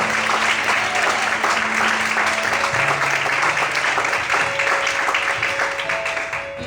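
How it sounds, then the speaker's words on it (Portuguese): A church congregation claps loudly and steadily through a worship service, with dense, continuous applause that fills the room while sustained voices or an organ tone hum beneath, then tapers slightly at the end. "Mais forte as palmas."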